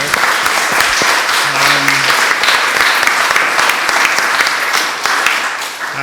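A crowd claps steadily for several seconds, a dense, sustained round of applause that fades slightly near the end.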